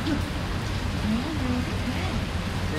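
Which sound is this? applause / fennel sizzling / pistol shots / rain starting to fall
rain starting to fall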